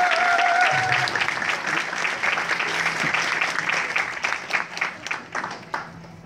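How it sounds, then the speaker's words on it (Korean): An audience applauds steadily as guests come down onto the stage for a Q&A session at a game event, a dense sustained wash of many hands with a voice briefly over it at the start. "큰 박수 부탁드리겠습니다"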